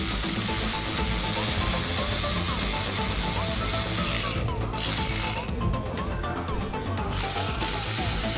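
A socket ratchet clicks in quick bursts while loosening the oil filter housing on a 2018 BMW 330i, close and under steady background noise, with a few short pauses.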